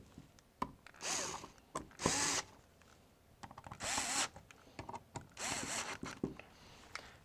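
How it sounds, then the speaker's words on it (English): A power driver or screwdriver tightens the body screws on a Tippmann 98 Custom ACT Platinum Series paintball marker, heard as several short whirring bursts with clicks and gaps between them, close and without talk. "we're going to go ahead and tighten down our body screws again"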